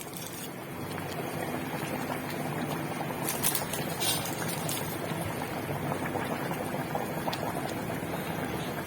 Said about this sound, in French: fait 15 à 20 minutes que notre sauce est en train de bouillir